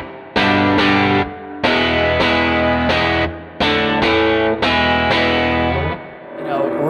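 An electric guitar played hard through a Fender Deville Deluxe IV amplifier with a modified preamp, heavily overdriven. Loud strummed chords ring out in short repeated bursts with brief gaps between them, close and with no talk.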